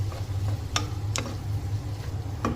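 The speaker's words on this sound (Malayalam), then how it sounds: "നമുക്കിനി ഇതിലേക്ക് അരിഞ്ഞു വെച്ചിരിക്കുന്ന തക്കാളി കൂടി ചേർത്ത് ഒന്ന് ഇളക്കി കൊടുക്കാം" Chopped tomato is stirred into sautéed onion, ginger and garlic in a pan, with three or four distinct spoon taps and scrapes over a low steady hum and faint sizzle.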